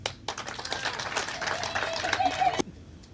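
An audience at an FDC party meeting bursts into dense, steady applause that swells for a couple of seconds at fairly close range, then cuts off abruptly into near silence.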